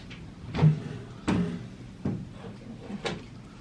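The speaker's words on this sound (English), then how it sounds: "In the fridge I go." A refrigerator door in a Tokyo home opening, heard as a few soft thumps and clicks spaced over several seconds, close by and fairly quiet, with no voices.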